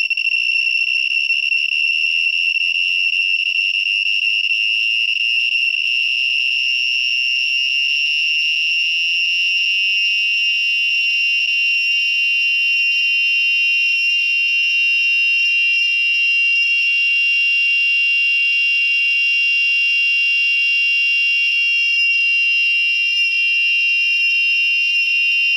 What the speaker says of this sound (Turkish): potansiyometre ile bazanın ses şiddetini değiştiriniz.